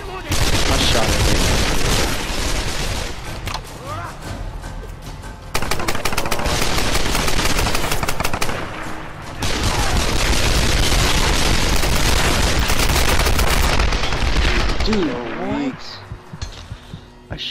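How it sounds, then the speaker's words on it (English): Rapid automatic gunfire in the Tomb Raider game, loud sustained bursts broken by short pauses, with people talking over the shooting. "I shot that guy right in the face and it didn't kill him"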